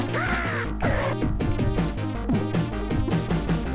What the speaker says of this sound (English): the Sludge Crow sound effect is the only close to actually sounding like what it's supposed to sound effect